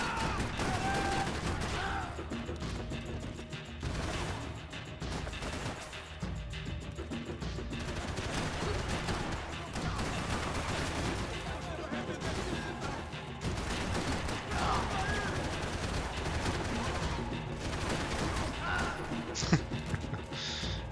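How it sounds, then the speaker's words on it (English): Blind gunfire in Max Payne 3, a dense, continuous firefight of repeated shots and bursts with crashes and debris, lasting the whole stretch at steady volume, with occasional voices mixed in. "shooting blind works pretty well sometimes"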